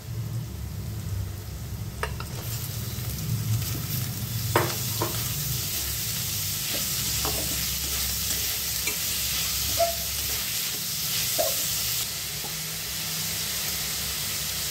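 Chicken keema sizzles steadily in a pan with ginger garlic paste, a constant frying hiss broken by occasional spoon scrapes and stirring clinks, close and moderately quiet.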